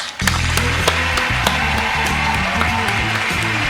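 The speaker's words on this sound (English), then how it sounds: "Everyone else will give you a huge round of applause." Audience at a magic show claps for volunteers heading onto the stage, a burst of applause with sharp individual claps standing out over a rhythmic, pulsing music bed that plays throughout.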